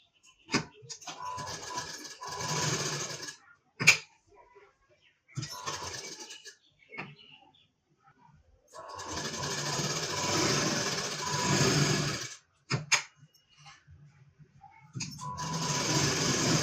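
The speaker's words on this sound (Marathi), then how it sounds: "आता आपल्याला बाजूने शिलाई करायचं आहे." Sewing machine stitching the side seam of a blouse, close and loud in several bursts of rapid whirring separated by pauses, with someone talking between runs.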